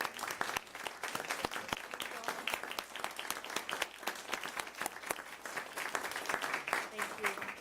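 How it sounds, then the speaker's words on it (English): A room at a county commissioners court session applauds a departing person, many hands clapping in a brisk, uneven patter throughout, with some murmured voices mixed in. "Let's give Paige a round of applause."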